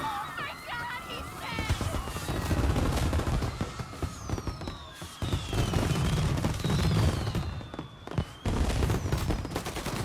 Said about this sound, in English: And now for the fireworks,